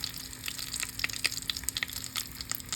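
A sweet plantain and salmon empanada fries in a pan over very low heat, giving a faint, continuous sizzle scattered with small sharp crackles and pops.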